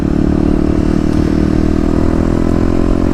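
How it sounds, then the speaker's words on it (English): Kawasaki KLX250 motorcycle with a new 13-tooth front sprocket riding steadily, its engine a loud, continuous close-up drone with rough clattering texture and wind rumble throughout. "We are on the KLX with the first ride with the new 13 tooth front sprocket."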